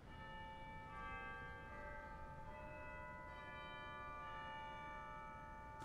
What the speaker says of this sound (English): And a marvelous set of chimes.